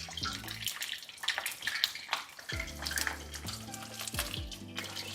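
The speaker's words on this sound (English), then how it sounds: "And then we're gonna place it into our oil. This will take you about 3 to 4 minutes total to fry your fish." Battered fish frying in hot oil gives a steady bubbling sizzle with crisp crackles and pops running through the whole stretch, close and fairly loud.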